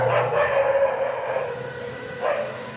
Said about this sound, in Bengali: কুকুরের এত ডাক